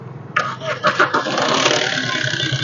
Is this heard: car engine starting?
yes